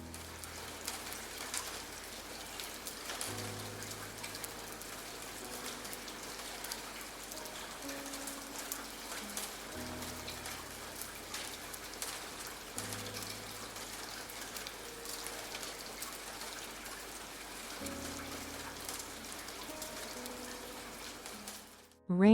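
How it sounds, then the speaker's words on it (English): May rain in Kyoto falls gently and steadily on stone pavements, an even soft hiss of drops that never pauses, with a faint low background hum underneath. "The May rain gently dampens the stone pavements of Kyoto, deepening the color of the fresh greenery."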